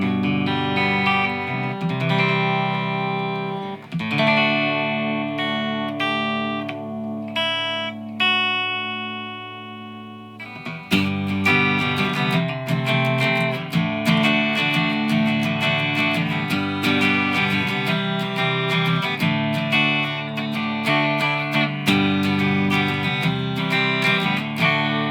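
A Gibson or Epiphone SG electric guitar on its bridge pickup, with volume at 5 and tones at 7, rings out loud, distorted chords and sustained notes, strummed and held in bursts with no voices.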